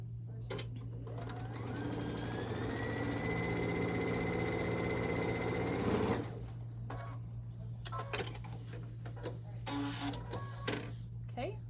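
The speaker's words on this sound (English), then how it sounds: "I am going to stitch that double fold together so we have a nice finish." A sewing machine stitches a double fold of pillow backing in a fast, steady whirring run for about six seconds, then stops, followed by clicks and handling noises; a voice speaks nearby.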